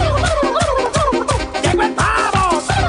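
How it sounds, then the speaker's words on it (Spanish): A turkey gobbles loudly and close by in rapid, repeated warbling bursts that fill the whole stretch with no talking. "¡Llegó el pavo!"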